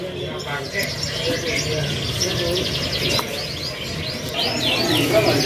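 Several canaries, including melok-coloured birds, chirp and trill in quick high bursts at a bird kiosk, steady and fairly close over a busy background hum.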